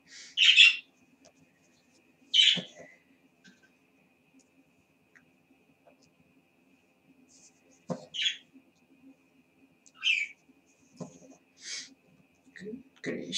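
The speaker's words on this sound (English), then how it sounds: "The birds are getting really, what's the word? Loud." Scattered short bird chirps and calls ring out one at a time against near silence, separated by pauses of a second or more.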